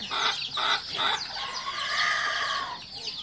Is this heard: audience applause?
no